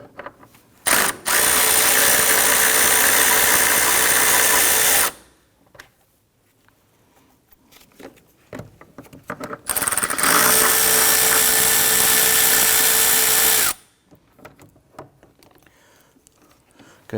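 A power tool loosening the two 10mm bolts on a 2017-2020 Hyundai Elantra 2.0L engine, in two loud, close bursts of steady whirring of about four seconds each, separated by quiet handling noises.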